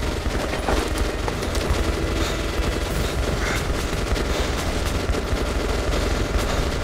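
Sustained gunfire in Metro Last Light Redux during a siege at D6, dense rapid shots and bursts layered over a heavy battle din, loud and continuous throughout with no clear pauses.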